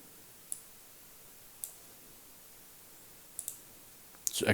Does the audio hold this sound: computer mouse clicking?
yes